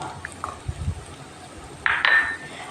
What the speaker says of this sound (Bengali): এটিকে আমি ভালোভাবে নাড়াচাড়া করতে থাকবো।